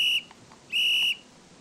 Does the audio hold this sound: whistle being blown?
yes